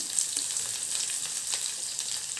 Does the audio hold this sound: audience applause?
no